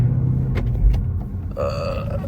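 Car engine automatically blipping its revs during a downshift from second to first gear in a manual transmission car, a short rising engine rumble near the mic, then a steady hum with tonal whine.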